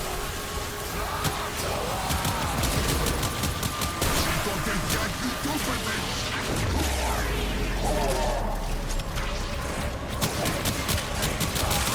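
Gunfire in the video game Warframe, psychic bolts and weapon shots crackling in a dense, continuous barrage with crashes and impacts, loud throughout, with game effects layered underneath.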